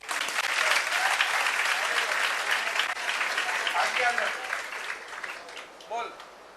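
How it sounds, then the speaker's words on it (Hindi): Applause from students for their teachers at a coaching centre, a loud, dense clatter of many hands holding steady before fading near the end, with some voices mixed in. "एक बार मिस्टर प्रिमल सर के लिए और बबीता मैम के लिए तालियां बजा दो यार"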